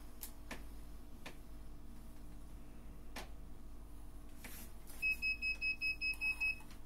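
ELAK-SP combined hidden-wiring and metal detector sweeping a concrete wall for rebar, giving a short run of about eight quick, regular electronic beeps toward the end after scattered ticks and handling clicks.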